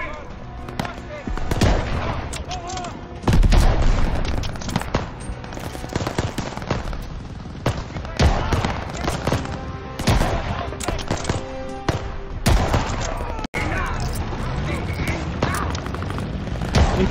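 Gunfire in the Call of Duty Vanguard campaign during the fall of Stalingrad: rapid bursts of rifle and machine-gun fire with heavy impacts, dense and loud throughout, mixed with shouting voices.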